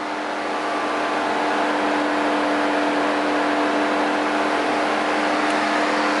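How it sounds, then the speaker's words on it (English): An airbrushed Sigma Rhomeo Magnum on 22-inch painted rims revs steadily nearby, giving a loud, sustained engine roar with a whirring, turbo-like whine that holds without a break. "Car sounds like it got a turbocharger under the hood."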